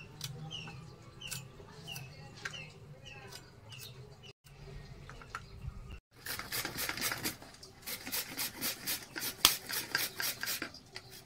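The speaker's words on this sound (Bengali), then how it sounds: "তো প্রথম আলুটাকে কুড়িয়ে নিচ্ছে" Potatoes being grated by hand on a grater for paratha filling, producing a rapid series of rough, rhythmic rasping strokes that grow louder and denser in the second half, close to the microphone, with no talk.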